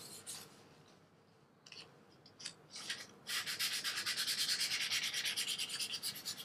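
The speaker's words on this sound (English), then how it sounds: "Very gently light sanding." Light, gentle sanding of a guitar's coated finish by hand, starting as a few soft scattered strokes and then settling into a steady, rapid back-and-forth rasp, close and quiet with no talking.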